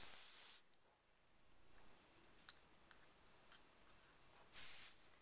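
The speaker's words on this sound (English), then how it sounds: "I'm going to lightly spray the whole entire thing." Two short bursts of an airbrush spraying ink hiss at the start and end, with faint clicks and quiet hiss in between.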